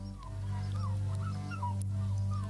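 A dog in a Pavlov conditioning experiment whimpers repeatedly, thin rising whines over a low steady hum, close and moderately quiet.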